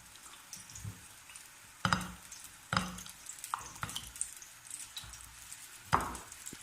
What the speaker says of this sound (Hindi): इन सबको हम अच्छी तरह मिक्स कर लेंगे।